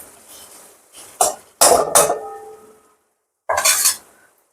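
A spiced masala with green chillies is stirred and sautéed in a pan. Short, loud bursts of spoon scraping and clattering against the pan are separated by pauses, with a light sizzle underneath and no talking.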